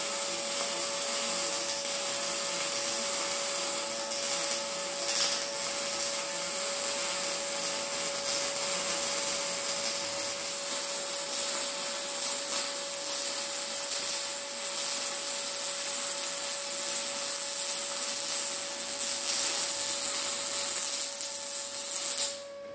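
A welder works on a steel roll cage bar, giving a long, loud, steady crackling hiss with a constant electrical hum that holds for many seconds before cutting off abruptly.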